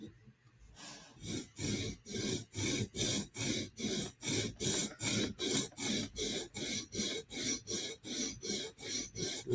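Knife edge drawn across a sharpening stone at 16 degrees, a rhythmic series of about twenty rasping back-and-forth strokes, close and quiet.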